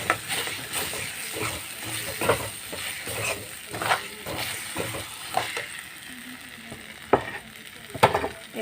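Two eggs stirred and frying in a pan for a Maggi noodle dish, a steady sizzle broken by repeated scraping and tapping strokes of a utensil, close and fairly loud.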